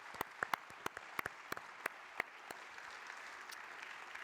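A fairly sparse round of applause from a conference audience, made of distinct separate claps scattered over several seconds, heard faintly and at a distance with no talking.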